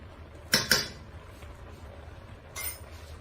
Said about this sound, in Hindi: चम्मच के साथ से घी उतार लें।